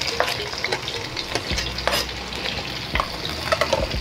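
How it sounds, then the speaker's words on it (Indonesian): Chopped garlic sizzles in hot oil, a loud, continuous crackling fry broken by scraping and knocking of a utensil being stirred through the pan, close up with no voices. "Minyaknya sudah mulai panas. Masukkan bawang putih cincangnya ya."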